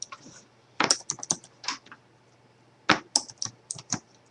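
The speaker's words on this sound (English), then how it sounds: "I'll type it in here." Close keystrokes on a computer keyboard arrive in two quick bursts of clustered clicks separated by a short pause, with no voices.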